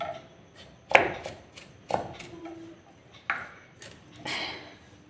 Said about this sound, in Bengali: একটু সরু সরু করে কাটতে হয় তো, একটু কাটতে সময় লাগে